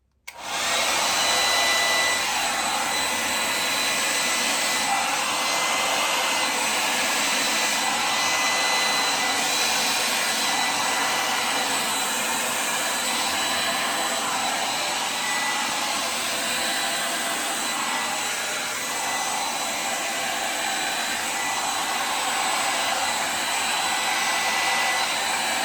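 A hair dryer blows air over acrylic pour paint in a Dutch pour, giving a steady, close, loud whooshing hum that runs almost unbroken for the whole stretch.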